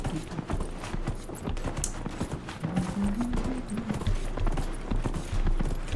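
Horse hooves clip-clop steadily in the video game Dragon Age Inquisition while riding through the Hinterlands, a continuous trotting rhythm over a busy background of in-game ambience.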